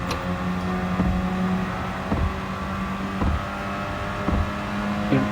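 A race car in Gran Turismo 7 runs flat out above 200 km/h in fifth gear into a right turn, its engine a sustained high-pitched drone with brief periodic bumps, loud and continuous with no talking.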